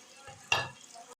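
Chopped onions hit hot ghee in a cooking pot with a sudden loud sizzle that keeps frying steadily for a moment, close up, with a brief stir beforehand.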